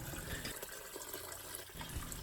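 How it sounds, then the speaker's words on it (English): Water pours steadily into a pot of seared bones and roasted aromatics for tonkotsu ramen broth, a continuous quiet gushing splash with no talking. "I'll add water to cover all ingredients."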